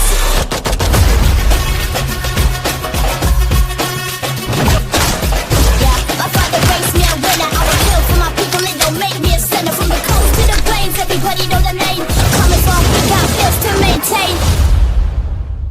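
Firecrackers bursting in a dense, loud, continuous barrage of sharp cracks and booms, rapid overlapping pops with no pause throughout.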